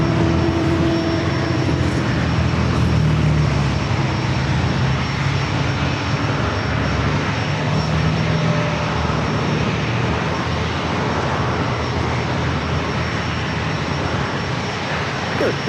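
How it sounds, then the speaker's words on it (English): A Southwest Airlines Boeing 737-700 arriving at San Diego airport from Sacramento gives off a steady, broad jet roar that holds at an even loudness from start to finish. "Southwest Airlines flight 4345 coming in from Sacramento, a 737-700"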